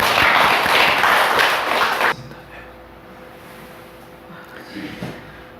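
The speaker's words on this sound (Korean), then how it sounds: "영광의 박수 드리겠습니다." Applause from a church congregation after a closing prayer: a dense, steady wash of many hands clapping together for about two seconds, then breaking off abruptly into a quiet room with faint rustling.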